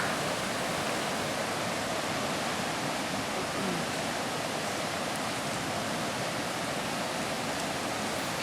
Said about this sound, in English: Just love this river.